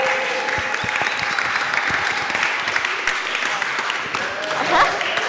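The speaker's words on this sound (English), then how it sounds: "Give it applause." Steady, dense applause from an audience at an arts-school event, bright clapping filling the room for several seconds with a few voices and cheers mixed in, swelling slightly near the end.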